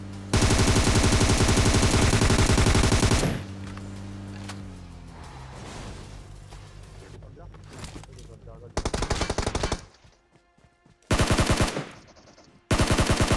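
Bursts of automatic gunfire in the battle-royale shooter game PUBG Mobile, loud rapid volleys at the start, then quieter mechanical rattling and clicks, followed by several more short, sharp gunfire bursts.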